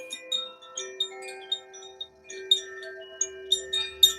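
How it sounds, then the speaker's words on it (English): Chimes ring out during a live sound bath, a series of clear bright strikes roughly every half second over a steady sustained tone, moderately loud with no voices. "Listen to these chimes and tune into your breath."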